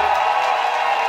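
A church congregation at a French-language prophetic gathering cheers and applauds, a steady, loud wash of crowd noise and clapping throughout with no pause.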